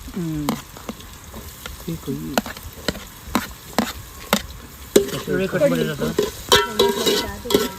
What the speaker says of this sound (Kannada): ಇವಾಗ ಆನಿಯನ್ ಹಾಕ್ತಾ ಇದೀವಿ